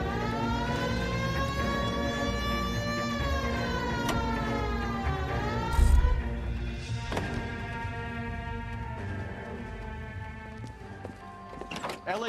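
A wailing police car siren in the video game L.A. Noire rises and falls continuously over engine and street noise in 1940s Los Angeles, loud and steady, with a brief thump midway.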